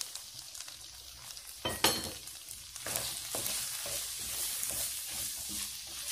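Spices frying in a pan while potatoes stuffed with chicken are prepared: a steady, close sizzle with bright crackling, a louder stir or clatter partway through, no talking.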